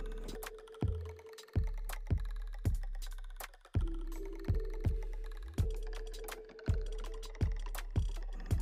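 The words Karwa Chauth are typed on a keyboard: a dozen or so crisp, separate key clicks at an unhurried, uneven pace, with faint tonal blips behind them and no speech.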